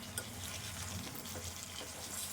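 Peeled boiled eggs frying in a pan of oil for an egg curry, giving a soft, steady sizzle and faint stirring scrapes, quiet and unbroken throughout.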